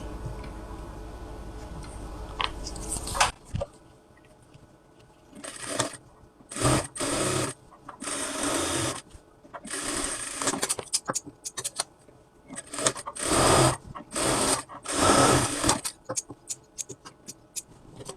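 A sewing machine stitches the body seams of a cotton kameez in quick bursts of rapid needle ticking separated by short pauses, close and fairly loud.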